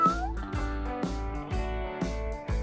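An orphaned cat meows loudly and close by, about five insistent cries spaced roughly half a second apart in a steady rhythm.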